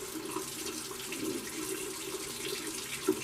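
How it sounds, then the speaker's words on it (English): A tap runs hot water over an object, a steady close splashing rush with no pauses throughout. "running it under hot water seems to do really well."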